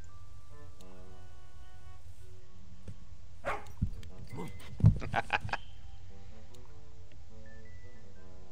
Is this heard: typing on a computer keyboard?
no